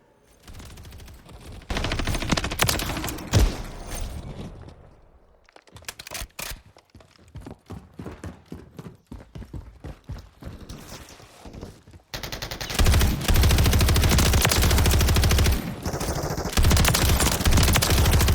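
An RPL-20 machine gun fires in Call of Duty Modern Warfare III: loud sustained automatic bursts with short gaps, then rapid staccato shots, then another long, dense burst.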